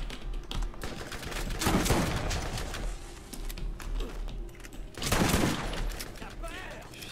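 Gunfire destroying crates in Borderlands: a couple of loud clusters of shots with cracking impacts over a busy game background, and a voice speaking between them.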